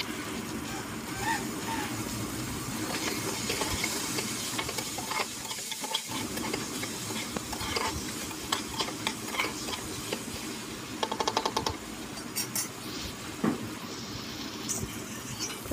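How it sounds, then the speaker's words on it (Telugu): Ingredients sizzle steadily in a pan over a low flame as a spoon stirs and scrapes, with soft repeated scraping and clinking through a continuous gentle frying hiss. "కొంచెం సిమ్లో పెట్టుకొని బాగా లైట్గా దూరగా వేయించుకోవాలి, లేకపోతే అడుగున మాడిపోతాయి"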